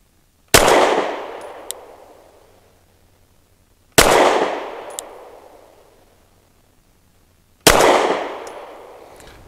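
Three loud, sharp pistol shots from an EAA Girsan Witness 2311 firing Syntex Defense ammunition, spaced a few seconds apart, each with a ringing decay and a faint metallic ping after it.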